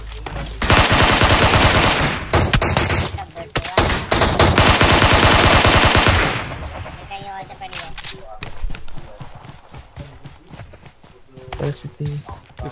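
Gunfire in the mobile game PUBG Mobile: long loud bursts of rapid automatic fire, then scattered single shots and footsteps, with voices talking over it.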